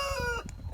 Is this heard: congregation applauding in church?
no